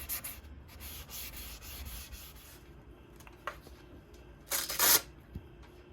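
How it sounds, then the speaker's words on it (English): Steady scratchy final sanding rubs back and forth on a wooden cutting board, soft and close, with a few louder abrasive strokes near the end. "Let's start with this final sanding."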